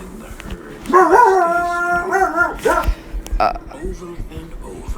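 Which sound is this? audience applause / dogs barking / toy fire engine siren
dogs barking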